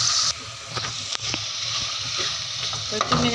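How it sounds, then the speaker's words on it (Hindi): Mixed masala and salt being stirred into tomatoes and meat for bhindi gosht in a pan, with close steady sizzling and hiss, scraping utensil strokes and a few sharp knocks against the pan. "और अब इन सब चीज़ों को मैं अच्छी तरह से मिक्स करूँगी।"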